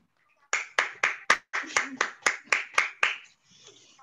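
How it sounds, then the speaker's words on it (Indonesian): A school orientation audience claps in a rhythmic series of about eleven sharp, evenly spaced claps, loud and close, before trailing off into a faint murmur. "Bisa tepuk tangan ya semuanya."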